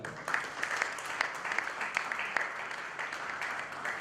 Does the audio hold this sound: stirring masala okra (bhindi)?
no